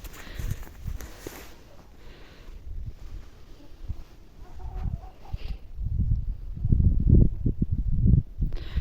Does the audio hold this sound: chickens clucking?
yes